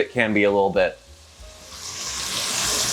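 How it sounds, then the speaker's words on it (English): Tofu frying at a soft sizzle in a pot for a stir fry, a steady low hiss that rises gently and carries on alone after a brief stretch of speech at the start. "now it's just kind of at a soft sizzle"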